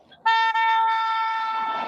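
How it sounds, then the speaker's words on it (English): A car horn on a highway blares in one long, loud, sustained honk that starts abruptly and holds steady to the end, close and harsh, with no talking over it. "You're honking."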